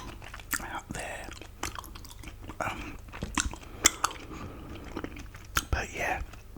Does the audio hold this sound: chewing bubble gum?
yes